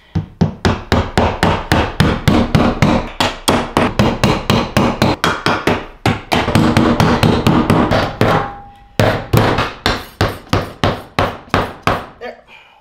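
A hammer drives a nail into a wall while fitting a toe kick ducting kit, striking in loud, rapid, rhythmic blows with a few short pauses between bursts.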